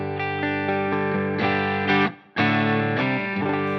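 Electric guitar played through a Line 6 Helix Deluxe amp model set fairly clean, sustained chords ringing with a rich harmonic tone, a brief drop near the middle before the strumming resumes, loud and alone.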